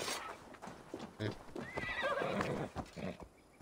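A horse in Assassin's Creed Valhalla whinnies in a rising, wavering neigh close by, with hoof clip-clop and a brief thump mixed in, while someone talks over the sounds.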